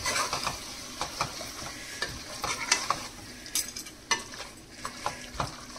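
Mutton with chili powder, salt and spices stirred and fried in a pan for a Telangana-style curry: a steady close sizzle broken by repeated scraping stirs and light utensil clicks, with no talking.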